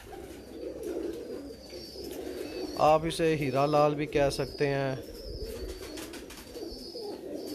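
Pigeons coo in a breeder's loft, a near, throaty cooing phrase in the middle that rises clearly over someone talking in Hindi-Urdu before and after.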